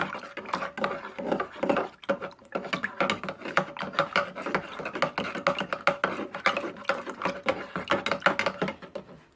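Miracle-Gro 24-8-16 fertilizer is worked by hand into bonsai potting soil for a tiger bark ficus. Close, gritty crunching and scraping comes in quick, irregular bursts throughout.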